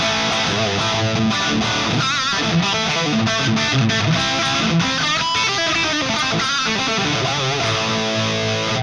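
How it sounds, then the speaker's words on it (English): Harsh distorted electric guitar riffing, Soldano X88-style high-gain tone through a Fractal cabinet miked with a Shure SM57, loud, dense and continuous with no talking. "The sound is a bit harsh, but it is quite normal because this is the sound of the Shure SM57."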